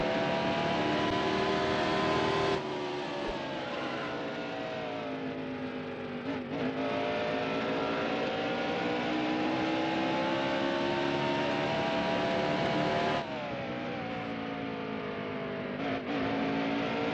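Race car engines roar steadily through a qualifying lap at Richmond in NASCAR Heat Evolution. The sustained high revving rises and falls with gear shifts, loud and close, with no talk over it.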